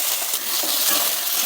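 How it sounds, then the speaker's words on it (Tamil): Garlic, shallots and tomato sautéing in a pan for rasam, a steady close hiss and crackle of frying with faint stirring, continuous and fairly loud with no voices. "இது ரெண்டும் சேர்த்து லைட்டா வதக்கி விடுங்க."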